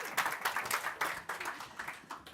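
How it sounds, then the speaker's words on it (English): An audience at a women-in-politics event applauds the panel, a brisk, moderately loud patter of many hands clapping with uneven surges throughout the short stretch. "How about another round of applause for our phenomenal panel?"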